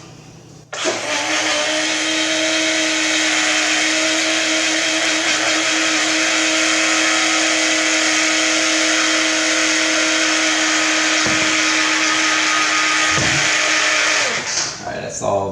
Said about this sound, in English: About to blend this sucker up.